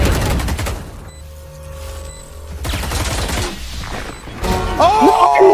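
Gunfire in a first-person shooter match, loud and close, with rapid bursts of shots and booming blasts among other game sounds and effects.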